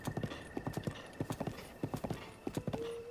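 Horse hooves clip-clop steadily in the video game Breath of the Wild, with quick paired hoof beats in a trotting rhythm, moderately loud and close with no voices.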